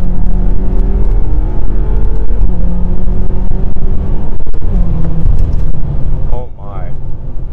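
A 2013 BMW F13 M6 accelerates hard on an open road, its loud engine rumble holding steady with rising harmonic tones, with a voice heard over it.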